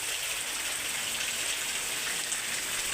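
Heavy rain pours down on a village in a dense, steady hiss that never lets up, with no voices.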